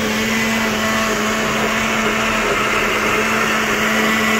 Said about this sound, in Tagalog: Gilingin ulit yan guys.